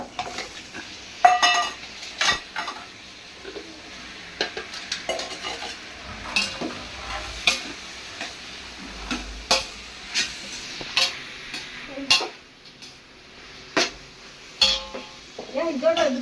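Tomatoes being stirred and fried in a pan for a large home-cooked festive meal, a steady soft sizzle under repeated scraping and clinking of a metal spoon against the pan in an uneven rhythm.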